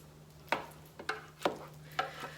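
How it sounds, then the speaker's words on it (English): Cooked sloppy joe ground meat broken up in an air fryer basket, four or five short scraping, crumbling strokes at a steady rhythm against a low steady fan hum. "let's pull this out and do a little more breaking up"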